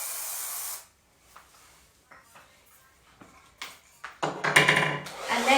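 A hair product is sprayed in a short, close hiss of just under a second, followed by quiet handling noises that grow into louder rustling and clatter.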